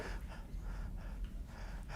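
A voice imitates short panting breaths, a quick series of close, soft rhythmic puffs of air, roughly four or five in two seconds, with no talking over them.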